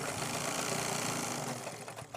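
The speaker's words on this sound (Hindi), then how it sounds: "ऐसे रखेंगे और सिलाई लगा देंगे" A sewing machine stitches a handmade travel bag, its needle chattering in a fast steady rhythm close up for a couple of seconds, then easing off near the end, with no talking.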